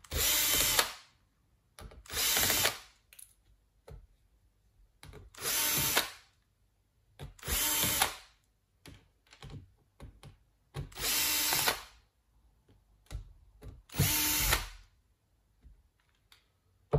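Cordless power screwdriver taking the screws out of a Dell Latitude 5480 laptop, with about six short whirring bursts in an uneven rhythm, each separated by quiet gaps and small clicks, close and clear.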